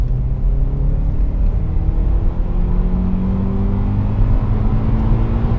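A Honda Accord CL9 pulls hard into VTEC on the road, a loud, sustained engine drone with rising harmonics heard from inside the cabin, steady and unbroken with no talk over it.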